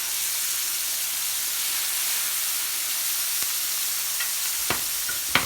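Garnishes sizzle in oil on a hot plancha griddle, a steady close hiss filling the whole stretch, with a few sharp clicks and scrapes near the end and no talking.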